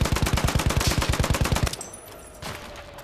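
Rapid automatic gunfire in a shooter video game, a loud, steady burst of evenly spaced shots that stops abruptly, followed by faint game ambience.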